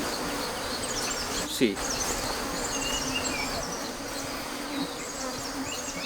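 Honey bees swarm and buzz steadily around a beehive, a dense close hum holding throughout, with a faint voice briefly heard.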